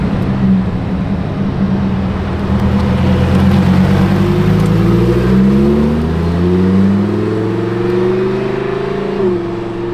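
A Lamborghini Huracan Performante passes with a loud, rising engine roar, its revs sweeping upward as it draws near and then settling as it moves off, with no talk over it.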